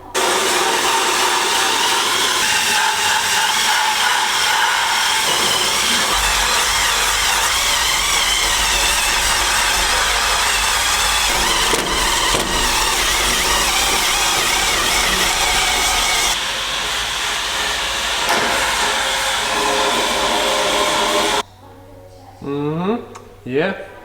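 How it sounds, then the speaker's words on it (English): A wire wheel grinds rust off the metal bodywork of an R32 GT-R, a loud, continuous abrasive whir that holds steady for about twenty seconds, shifts pitch partway through, then cuts off as a voice starts talking. "I'm gonna go ahead now and clean all that up with a little wire wheel action"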